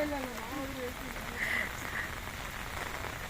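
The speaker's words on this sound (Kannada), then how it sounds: "ಮಳೆ ತುಂಬ ಬರ್ತಾ ಇದೆ" Steady heavy rain patters continuously on surfaces outside a college, with a voice speaking briefly at the start.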